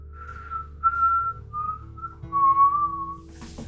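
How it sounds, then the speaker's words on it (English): A person whistles a short, clear tune of several sustained notes with brief pauses, close and alone in a quiet space. "You wake up to the sound of whistling."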